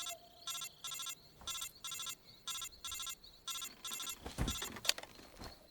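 Electronic telephone ringing in the Metal Gear Solid 3 video game, a regular pattern of short bursts repeating about every half second, moderately loud, followed by a couple of dull thuds near the end.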